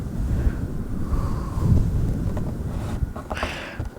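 A steady, rushing wind noise blows throughout without pause, broad and moderately loud with a slight swell in the middle, and no voices are heard.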